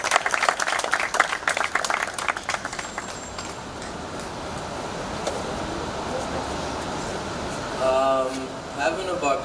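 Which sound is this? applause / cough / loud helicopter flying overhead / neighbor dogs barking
applause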